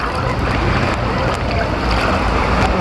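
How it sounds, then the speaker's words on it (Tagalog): Strong waves wash along a shore, making a loud, continuous roar with heavy wind noise on the microphone. "Ay, dito medyo malakas yung alon dito."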